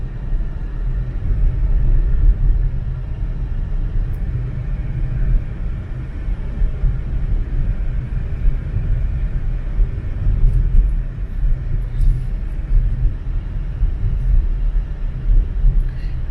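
A car driving around Madridejos, heard from inside as a constant low engine and road rumble, steady and loud with no talk.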